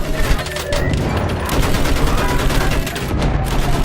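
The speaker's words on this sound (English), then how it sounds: "Use that machine gun." Dense, continuous battlefield gunfire from the video game Battlefield 1, with a steady roar of overlapping shots and bursts that fits machine gun fire and holds loud throughout.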